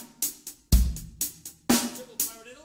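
A drum kit groove with a triple paradiddle as the hand pattern: sharp, close strikes in an uneven rhythm, with heavier bass drum hits among lighter cymbal and snare notes, played alone.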